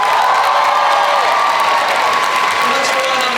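Loud, continuous applause from a large Comic-Con panel audience, with cheering and scattered whoops mixed into a steady crowd roar that holds throughout.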